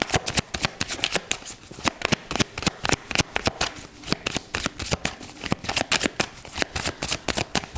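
Oracle cards riffled and shuffled by hand, a rapid steady run of papery flutters and snaps repeating close up for several seconds with no talk.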